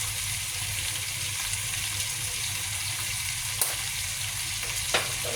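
Chicken pieces sautéing to brown in a pan for tinolang manok with malunggay leaves, giving a steady, close sizzle throughout, with a couple of faint utensil taps near the end.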